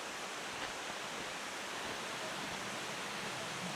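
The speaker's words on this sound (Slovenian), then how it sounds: "Vodopad zeleni vir." Zeleni Vir waterfall in Gorski Kotar roars in a steady, dense rush of falling water, close and loud and unbroken throughout.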